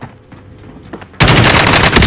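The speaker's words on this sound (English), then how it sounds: "I'm taking fire!" Quiet scattered shots in Call of Duty: Warzone give way to a sudden, loud, sustained burst of automatic gunfire very close by.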